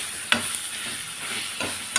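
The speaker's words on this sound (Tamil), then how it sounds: "அடுப்பை குறைச்சி வச்சுட்டு வதக்கணும், கருவக்கூடாது." Ingredients for mango rasam sauté in a pan, giving a steady close sizzle with two soft scraping stirs spaced apart, no talking.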